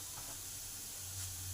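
Fried onion with garlic, ginger and cumin powder sizzles in a pan, making a soft, even hiss that runs without a break through the short moment.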